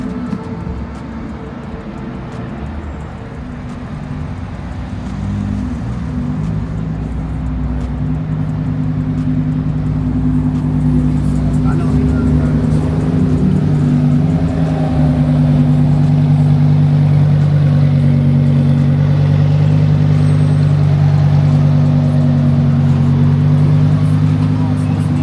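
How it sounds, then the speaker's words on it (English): Supercars roll up to a gas station in Miami, a steady mid-pitched engine rumble building slightly as they pull in and idle, with voices talking over it. "Boys are pulling up to the gas station."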